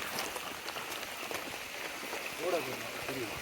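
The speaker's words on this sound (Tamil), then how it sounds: "இங்கே மழை பார்த்தீங்கன்னா சக்க மழை பெஞ்சிட்ருக்கு" Heavy rain falls steadily on an outdoor garden cooking spot under a shelter. A constant dense hiss fills the scene, with a faint voice briefly heard near the end.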